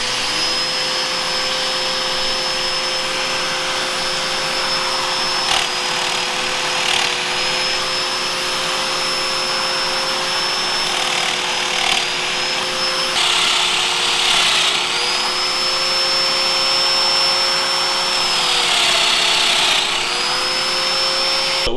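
A Festool Domino joiner runs steadily with dust extraction while plunging mortises into small wooden miter box fence pieces. A loud, continuous motor whine is heard alone, with slight pitch dips at each plunge cut.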